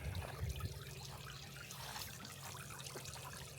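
A garden hose runs steadily as trees are watered outdoors, a continuous splashing trickle close by with no talk.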